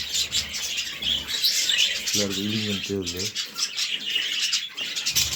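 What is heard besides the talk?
pet birds chirping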